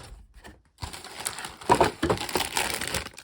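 30 Minutes Missions Revernova model kit packaging is opened indoors, with close crinkling and crumpling of plastic and cardboard in short bursts after a brief quiet moment.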